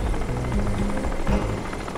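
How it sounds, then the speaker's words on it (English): A helicopter in the video game Crysis keeps up a steady, loud rotor drone with low throbbing hum throughout, no talk over it. "There's a helicopter supporting them?"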